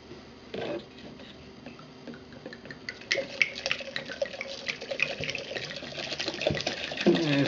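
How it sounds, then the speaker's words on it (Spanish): One litre of red wine poured into a sangria mix, a gurgling liquid stream that grows fuller and louder over several seconds with small clinks and knocks around it. "vamos a agregarle 1 litro de vino tinto"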